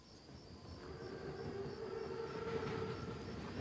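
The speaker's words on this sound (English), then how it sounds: "Train's right on time." A German armored train, a Panzerzug in Call of Duty: WWII, approaches with a low rumble that slowly swells and grows louder, while a thin high whine and a metallic tone sit above it.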